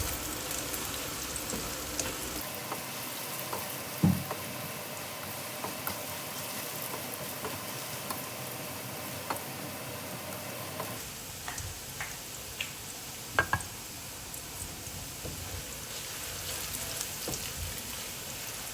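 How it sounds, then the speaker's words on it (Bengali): Sliced onions fry in a pan until reddish for a duck curry made with coconut milk, giving a steady rain-like crackle and hiss with scattered sharp pops, fairly quiet and continuous throughout, with no talking. "পেঁয়াজটা একটু লাল লাল করে আমি ভেজে নেব"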